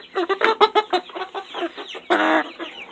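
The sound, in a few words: Buff Orpington chickens clucking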